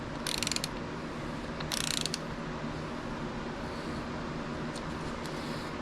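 A ratchet clicks while snugging front cover bolts on a 7M engine in a MK3 Supra, two short bursts of rapid ratcheting close to the mic over a steady low hum, followed by a couple of faint clicks.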